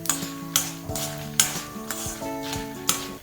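Peppercorns and cumin seeds being stirred as they roast in a dry pan, a sequence of sharp scraping strokes roughly every half second over a faint sizzle, with light clinks of the spoon against the pan.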